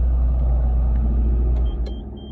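A Nissan car's engine idling steadily, a loud continuous low rumble close by, with a few faint light clicks and a brief high tone near the end, and no voices.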